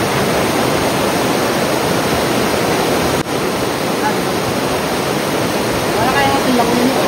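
A forest waterfall roars as a steady, dense rush of falling water, close and unbroken throughout, with a faint voice briefly over it.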